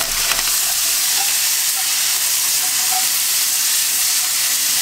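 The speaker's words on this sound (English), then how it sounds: "And we're just cooking these so they're fragrant" Garlic and ginger frying in a pan for wild-game chow mein, a loud, steady close-up sizzle with faint scattered pops and no talk.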